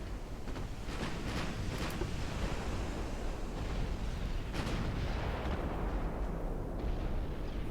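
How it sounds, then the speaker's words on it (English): Twelve-inch battleship guns fire in a naval warfare game set in a 1900 British campaign. Heavy booming blasts roll into a continuous rumbling, surf-like wash, with a few sharper reports standing out. "that monstrously armored battleship is getting picked apart by 12-inch guns"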